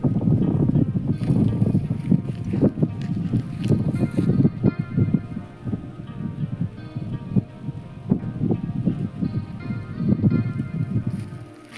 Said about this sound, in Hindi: यहाँ पर हवा चल रही है